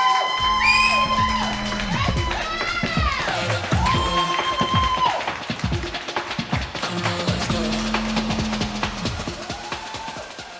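Crowd at a League of Legends and Valorant student esports grand final cheers and claps, with rising whoops and shouts over a loud, continuous roar that swells and dips.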